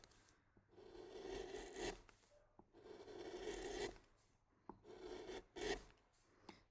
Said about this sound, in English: just a running cut is I just keep pushing it through with a steady consistency through that timber grain